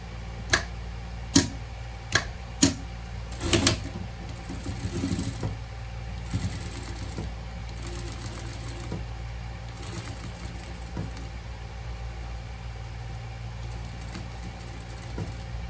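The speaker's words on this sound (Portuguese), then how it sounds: "Vamos passar mais uma costura aqui." A sewing machine stitches a seam on a pet cap, a handful of sharp clicks first and then a steady low mechanical hum running on, close by with no voices.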